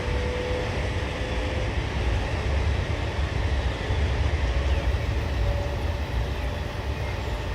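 Steady, loud rumble and rushing hiss of an H5 Shinkansen running at high speed on the Tohoku line, heard from inside as an unbroken drone with faint tonal whines.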